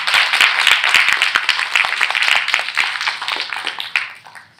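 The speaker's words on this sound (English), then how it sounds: "Please give Sabina a big round of applause." Audience applause at an arts and culture conference session, loud close clapping with distinct individual claps that gradually thins and fades toward the end.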